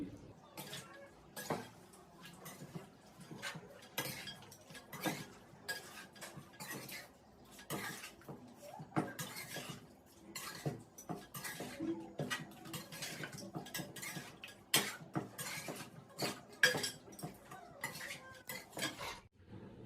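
Metal utensils clink and scrape against a pot as chicken biryani ingredients are mixed with oil, giving an irregular run of close, fairly quiet knocks and scrapes.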